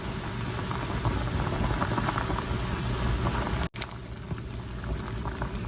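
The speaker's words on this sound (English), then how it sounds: "Just keep it boiling." A pot of chicken chili thickened with flour bubbles at a steady boil, a continuous dense rumbling hiss close by, with a brief cut-out near the end before the sound resumes.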